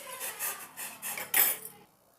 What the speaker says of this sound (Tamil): கைவிடாமல் கலக்கி விட்டுட்டு